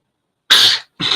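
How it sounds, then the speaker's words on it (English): A person coughs twice during a live talk stream: one sharp, close cough followed by a second that starts shortly after, both loud and alone with no talk over them. "Oh my God, I'm coughing."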